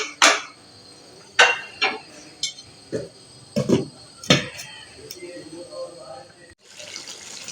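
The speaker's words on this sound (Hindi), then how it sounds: "तो यहाँ लगाते हैं इसे ढक्कन।" A lid goes onto a pot of mince cooking on the stove, giving several sharp metallic clanks and knocks close by, followed by a softer running-water hiss at the end.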